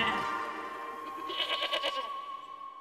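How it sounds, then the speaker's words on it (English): A sheep from the video game Okami bleats in a wavering, buzzy call that runs through most of the moment, layered over steady game music and chiming tones, fairly loud and close. "It is a sheep with a flask."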